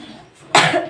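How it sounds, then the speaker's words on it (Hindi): A person with a cold coughs hard, one loud harsh burst close to the microphone after a quieter moment, with another cough beginning at the very end. "ये खांसी खूब तेज और सर्दी लग रही है इसको"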